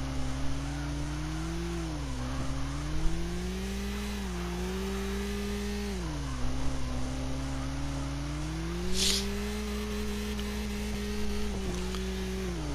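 Drift car engine in CarX Drift Racing holds a steady, droning rev that rises and falls in smooth sweeps, with tyre noise running continuously underneath throughout.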